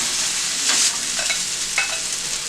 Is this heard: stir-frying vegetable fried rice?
yes